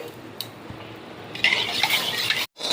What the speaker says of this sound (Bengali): এবার ডালটা ভালো করে ধুয়ে নেব, কোনো রকম নোংরা যাতে না থাকে।